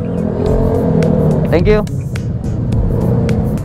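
A motorcycle engine at a checkpoint for the Tacloban 600 km endurance challenge, running steadily close by with a brief rev in the middle, under people talking.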